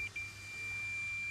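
A multimeter emits a steady high continuity beep as its probes touch during a mobility scooter repair; a brief flicker at the start, then one sustained tone, close and clear.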